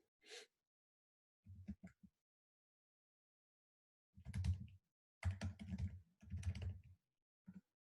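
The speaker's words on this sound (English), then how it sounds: "I'm going to type the URL again." URL typed on a computer keyboard, quiet close clusters of rapid key clicks separated by pauses, with a soft breathy sound at the start.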